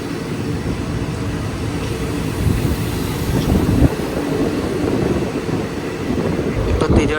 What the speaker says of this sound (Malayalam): ഇത് കൊല്ലത്തുനിന്ന് തിരുവനന്തപുരം പോകുന്നൊരു പാസഞ്ചറാണ്.